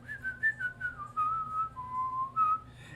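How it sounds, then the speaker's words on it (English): A person whistles a short, wandering tune alone, clear and close, with a gently falling and rising melody over a faint low background hum. "I'm gonna kind of just like whistle a little bit of a tune to myself"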